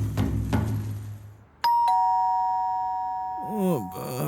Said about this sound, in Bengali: আর কলিং বেল বাজাচ্ছে